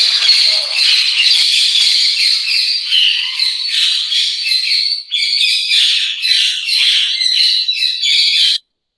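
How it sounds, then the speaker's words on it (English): Parrots or lovebirds on a campus squawk and chatter loudly and continuously, a dense, close flock chorus that barely pauses before cutting off. "these are some of the birds like parrots or lovebirds, then chicken"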